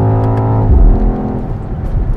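A heavy 2.8-tonne BMW XM hybrid accelerates hard, its engine note loud and close, a low droning growl that shifts pitch sharply as it pulls through a gear change.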